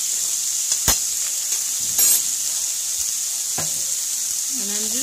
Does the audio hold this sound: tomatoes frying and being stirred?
yes